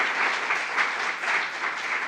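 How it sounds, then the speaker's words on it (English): A crowd applauds after a guest speaker's talk and interview, a steady wash of many hands clapping at even strength, heard from a little distance. "give a big round of applause to Olga and Menachem for this amazing presentation and discussion"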